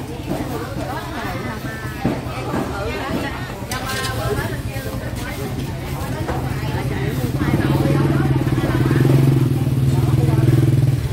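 Motorcycle engines rumble and rev close by amid a busy crowd's chatter and clatter at Giồng Riềng traditional market in Kiên Giang, Vietnam, growing louder toward the end.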